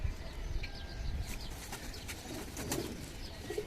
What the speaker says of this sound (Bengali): এই যে বাসার সিলভার কবুতরের বাচ্চা